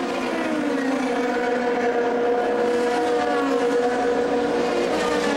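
A Formula 3000 race car howls through Monza's Curva Grande from an onboard position, its engine note sustained and loud with shifting tonal harmonics and no voices.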